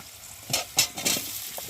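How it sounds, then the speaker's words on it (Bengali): Chopped potatoes and onions frying in hot oil, with a soft sizzle broken by a few bright scraping stirs. "এর মধ্যে আমি এখন কেটে রাখা আলুগুলোকে দিয়ে ভালো করে ভেজে নেব"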